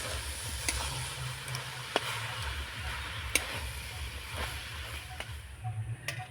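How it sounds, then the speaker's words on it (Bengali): A raw mango spice mixture with melting jaggery is stirred in a pan, with a soft steady sizzle broken by scattered clicks of the spoon against the pan. "এবার নাড়াচাড়া করে সব কিছু মিশিয়ে নেব।"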